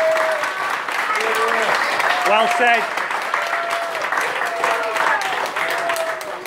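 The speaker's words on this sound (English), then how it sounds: "So give yourselves a round of applause." Applause from players and guests at a rugby club presentation after a Farnley Falcons versus Bentley match, steady clapping filling the room while people talk and call out over it.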